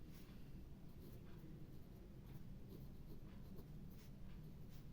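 A pen scratches steadily across paper while someone writes out a class 6 maths exercise, the soft continuous scraping faint and close with no talk.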